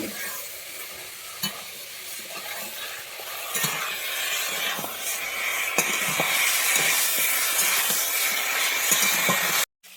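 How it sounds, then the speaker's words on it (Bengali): Chicken pieces seasoned with salt and turmeric fry in a pan with a steady, close sizzle and intermittent stirring scrapes, growing louder over the span before cutting off abruptly at the end. "এবারে আমি ভালোভাবে ভেজে নিচ্ছি"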